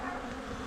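Agitated honeybees at an open hive produce a dense, steady buzzing swarm drone, loud and close throughout.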